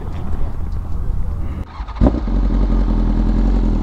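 A BMW S1000RR sport bike runs nearby as the ride begins, a rough engine burble with a voice talking over it early on, then a sharp clunk and a steadier, louder engine note.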